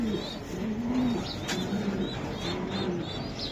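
A big white male racer pigeon coos in soft repeated low phrases, close by, with faint chirps and background hum and no talk.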